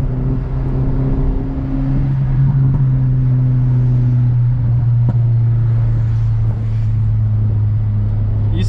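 A Renault Sandero RS engine roars loud and close, holding a heavy, sustained drone whose pitch drifts slowly, with road noise underneath.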